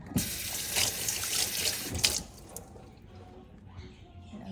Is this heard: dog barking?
no